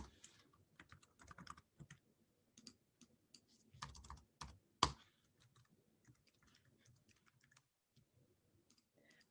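Typing on a computer keyboard while entering an email address: quiet, irregular bursts of close key clicks with brief pauses and one sharper tap, no voices.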